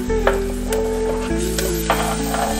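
Chopped tomatoes go into frying onions, close sizzling with a few sharp stirring clicks and scrapes over a low steady hum.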